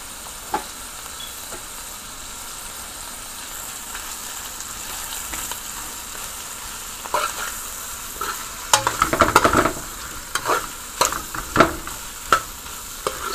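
Beef frying in a pan with tomato paste gives a soft, steady sizzle, then louder scraping and clattering bursts as it is stirred toward the end, with no voices.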